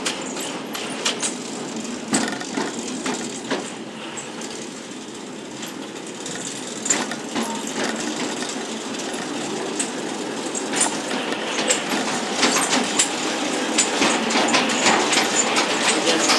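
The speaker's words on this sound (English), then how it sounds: "So let's go for our train ride." A miniature railway train rattles steadily along the track, with continuous clicking and clattering of wheels over rail joints, close by and fairly loud throughout.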